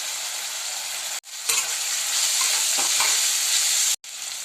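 Close sizzling of methi (fenugreek leaves) frying with turmeric in a pan, with scraping and stirring noises from a spoon and brief cuts to silence, with no talking.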